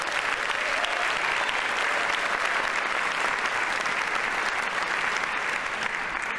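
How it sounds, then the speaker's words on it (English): Sustained audience applause at a hospital staff convocation, a dense, even roar of many hands clapping at full strength for the whole stretch, close and unbroken. "Can we give them a big round of applause?"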